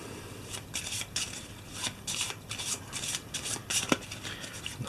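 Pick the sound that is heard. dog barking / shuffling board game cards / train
shuffling board game cards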